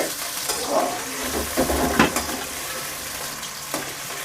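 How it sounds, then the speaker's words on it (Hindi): Cut potato pieces fry in hot oil in a karahi for keema aloo. A bubbling sizzle sits up close, with a few utensil knocks and scrapes stirring them early on. "ये आलूओं को डालेंगे ऑयल में और फ्राई करेंगे"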